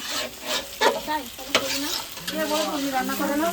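Mutton fries in a pan in a home kitchen while being stirred, with a constant sizzle broken by scraping stir strokes and soft clinks.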